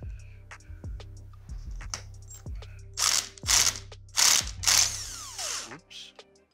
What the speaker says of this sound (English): We are gonna use an impact gun for this.